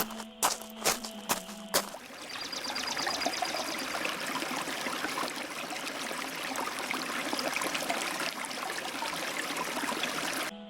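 A few sharp knocks at the start, then steady flowing water from a stream runs continuously and evenly, close by.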